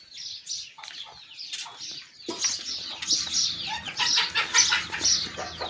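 Several chickens cluck and call in a poultry breeding yard, a steady busy flock chatter of short overlapping clucks and chirps that grows louder and denser after the first couple of seconds.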